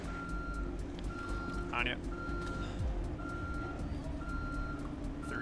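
A truck in the video game Ghost Recon Future Soldier reverses, its beeps repeating at an even pace over a low engine rumble, with a brief spoken exchange partway through.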